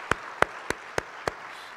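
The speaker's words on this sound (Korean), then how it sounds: "우리 한번 힘있게 격려하면서 박수 한번 할까요?" A church congregation applauds its worship team with five sharp, evenly spaced claps, crisp and fairly close, over a quiet hall.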